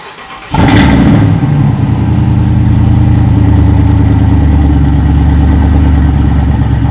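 A Dodge Durango Hellcat's supercharged 6.2-liter Hemi V8 with Flowmaster exhaust fires up with a sharp roar, then settles into a loud, deep, rumbling idle close by.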